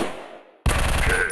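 Gunfire from the mobile shooter Gun Strike 3D: a quiet fading tail, a brief silence, then a loud, dense burst of automatic shots that runs to the end, with no voices.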